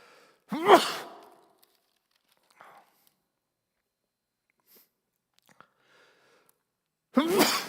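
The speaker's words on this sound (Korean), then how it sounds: "알러지로 재채기를 했습니다." A person gives two sudden, sharp allergy sneezes, one near the start and one at the very end, with near silence and a few faint rustles in between. The setting is a quiet indoor Bible lecture.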